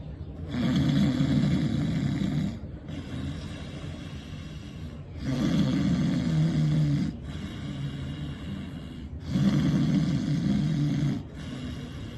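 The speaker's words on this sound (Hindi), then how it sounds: "अब हमें श्वास के साथ कंठ को कंपित करना है। कुछ कुछ जैसे खर्राटे की आवाज होती है" Deliberate snore-like throat vibration made during a yoga breathing exercise, heard as three long, rough, rumbling exhalations, each a few seconds long, separated by quieter pauses; steady and close.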